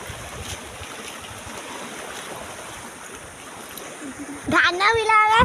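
A village stream swollen by heavy rain rushes in a constant broadband wash at moderate level. A voice speaks briefly at the end.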